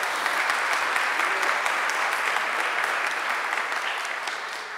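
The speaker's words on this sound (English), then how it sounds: "Give her a round of applause once again." A church-hall audience at a faith-based land development summit gives a sustained round of applause, many hands clapping in an even, dense wash that holds steady and then fades slightly at the end.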